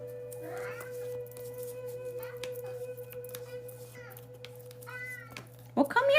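A house cat meows several times, short and close, spaced through the stretch over a steady electrical hum, with a louder yowl right at the end.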